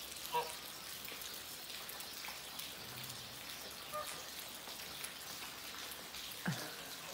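Rain patters steadily on a surface, with a few louder individual drops standing out over the soft continuous hiss.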